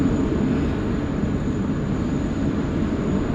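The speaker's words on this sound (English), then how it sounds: "The American 72 off to Los Angeles, the 777-300, the big GEs." An American Airlines Boeing 777-300 with big GE engines departs Sydney Airport for Los Angeles, a loud, steady, deep jet roar with a broad rumbling low end and a faint high whine, heard alone.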